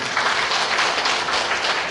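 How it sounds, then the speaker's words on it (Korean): Audience applause in a large National Assembly conference hall during a certification and appointment ceremony, a steady, even patter of many hands clapping without a break. "큰 박수 보내주시기 바랍니다"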